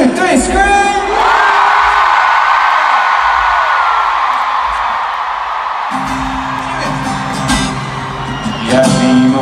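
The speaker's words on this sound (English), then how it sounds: "One, two, three, scream!" A huge stadium concert crowd in Vienna's Ernst-Happel-Stadion screams and cheers in a loud, sustained roar that swells and fades slightly, with whoops and shouts rising out of the mass of voices.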